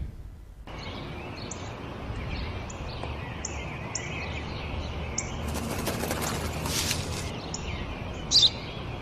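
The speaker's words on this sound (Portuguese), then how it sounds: "Ένα σπουργίτι." Small birds such as a sparrow chirp in a played video clip, with faint high repeated tweets and a burst of fluttering wings over a steady hiss of background noise, no voices present.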